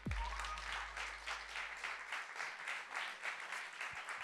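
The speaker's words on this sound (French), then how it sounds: "je vous demande un tonnerre d'applaudissements pour elle" An audience breaks into lively, sustained applause for a guest calling herself Doctor Frankenstein, the clapping steady and full after a brief low thump at the start.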